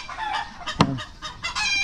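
Chickens clucking in quick, repeated bursts close by, with one sharper squawk partway through.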